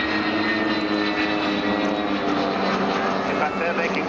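Avro Vulcan XH558 bomber flying slowly at an air show at RAF Cosford, keeping position with two small aircraft; a steady, loud engine drone fills the whole stretch, with a commentator talking over it.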